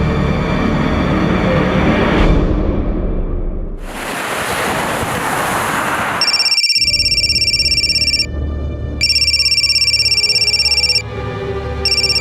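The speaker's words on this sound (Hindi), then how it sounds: "आपका फोन बहुत बज रहा है।" After a rush of noise, a phone rings in repeated electronic bursts with short pauses between them, loud and close.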